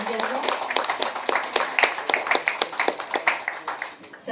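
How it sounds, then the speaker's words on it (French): A small group clapping, a quick run of uneven handclaps lasting several seconds, close by with no talking. "Oui, on peut l'applaudir"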